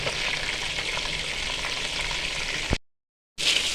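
Kebabs fry in a pot with a dense, steady, close sizzle. The sizzle cuts to a brief silence and then returns.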